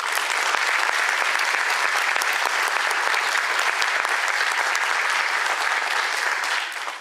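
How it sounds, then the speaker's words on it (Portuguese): An audience at a museum event claps in a long, even round of applause, a dense wash of many hands that holds steady before tapering at the end. "até pedir uma salva de palmas para eles."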